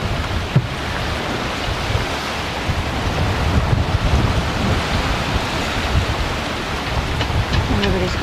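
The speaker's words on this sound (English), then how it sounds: "Just the Genoa creaming along with the wind astern." Strong wind and rushing waves aboard a sailboat running under genoa with the wind astern in 34 knots of wind: a loud, continuous roar of wind buffeting the microphone over steady surging water, with no pauses.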